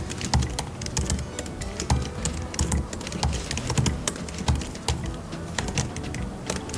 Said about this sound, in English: Oh, the typing feels nice.